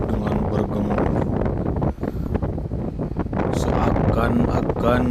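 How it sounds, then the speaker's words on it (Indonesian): Strong wind roars continuously and loudly, buffeting the microphone with a steady broadband rush, with a voice faintly mixed beneath it. "Dan angin pun bertiup dengan bergemuruh"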